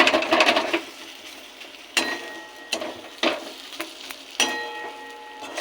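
Mankochu (giant taro) paste being stirred and fried in a kadai, with soft sizzling and scraping noises, sharp clinks of the utensil against the pan at irregular intervals, and quieter gaps between the strokes.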